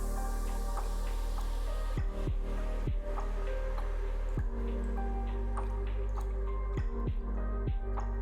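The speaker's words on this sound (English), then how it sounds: "This water dripping's really throwing me off, so could we not listen to the water drip?" Water dripping slowly and irregularly, several distinct plinking drops over a few seconds, close and clear above a steady background hum.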